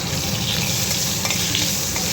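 Steady, loud sizzling of eggplant pieces frying in a pan, a continuous hiss with faint scraping, no voices.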